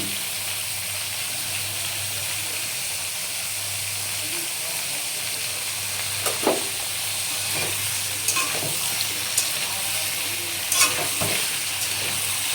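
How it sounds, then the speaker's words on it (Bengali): Papaya and potato fry in a pan with a steady close sizzle, broken by a few scraping stirs toward the end; no one speaks. "ভালো করে ভেজে নিই।"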